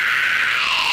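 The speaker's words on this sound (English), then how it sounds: "So without the tunnel, high scream is," A high-pitched vocal scream, a harsh, sustained, loud, bright tone held for about a second without the tongue tunnel technique.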